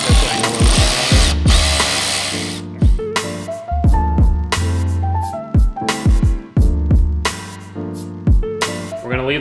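A power tool whirs in short repeated bursts while tightening a part on a car's new intercooler setup, each burst rising and stopping, close and fairly loud over a mechanical background.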